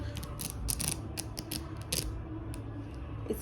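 A zipper on a baby's dhoti set gives short, raspy bursts of zipping in quick succession, close and clear against a low background hum.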